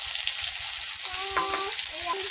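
Sliced onions sizzling in hot oil in a pan during home cooking of pond fish with garden vegetables, a steady bright hiss with a few brief tonal scrapes over it.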